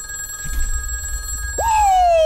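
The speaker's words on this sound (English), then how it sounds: "The phone is ringing." A telephone rings in a Christmas-themed video game, a steady electronic tone over a low background hum, followed by a louder gliding tone near the end, with no talking.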